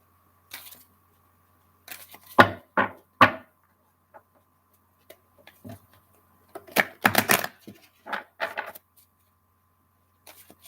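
Tarot cards shuffled by hand, giving short papery riffles and flicks in scattered bursts with pauses between, close and fairly quiet, no talking.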